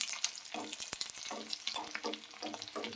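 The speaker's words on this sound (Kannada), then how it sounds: "ಎಣ್ಣೆ ಕಾದಿದೆ, ಈಗ ಬೆಳ್ಳುಳ್ಳಿ ಹಾಕ್ಕೊಳ್ತೀನಿ." Garlic sizzles in hot oil in a home kitchen as a sauce is made, a dense steady crackle with stirring scrapes and clatter throughout, close up and with no voices.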